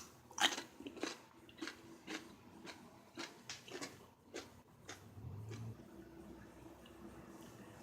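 A crisp homemade dill pickle made with pickling lime is bitten and chewed, giving a run of close, sharp crunches that repeat at an uneven pace before settling into quieter chewing.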